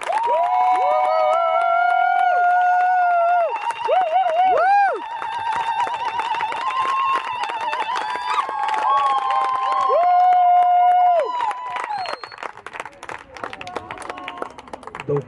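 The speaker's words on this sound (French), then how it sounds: "Acclamons plus fort le Seigneur." A worship crowd at a gospel dance gathering cheers and acclaims the Lord with loud, high whooping and ululating cries. The cries rise and fall over a dense, continuous roar of clapping for about eleven seconds, then thin out.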